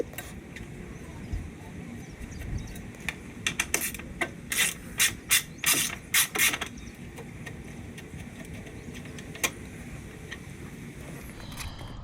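A hand ratchet backs T30 screws out of a Jeep Gladiator hood area. It gives a burst of sharp, rapid clicks in the middle, with a few scattered clicks and handling noises around it and faint background hum.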